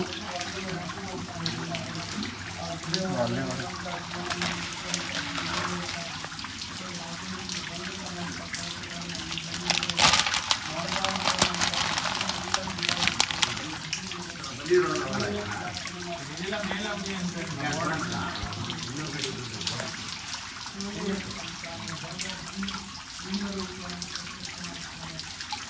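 Water rushes and splashes steadily at a cave temple, a continuous close gush with voices talking over it throughout.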